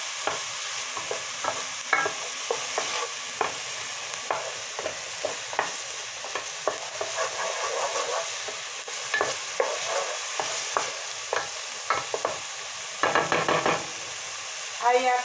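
Onion and garlic sautéing in olive oil in a pan, with steady soft sizzling under frequent clicks and scrapes of a utensil stirring, a busier clatter near the end; no talking.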